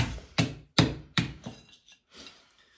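A copper spear point is struck with rocks in three sharp, loud knocks spaced roughly a third of a second apart, followed by softer scraping and tapping that fades out.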